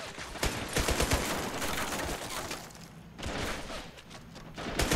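Rapid bursts of gunfire crackle through a video game shootout in a 1v1 Valkyrie tournament match, dense overlapping shots with a few heavier thumps, briefly easing around the middle before the firing picks back up, with no talk.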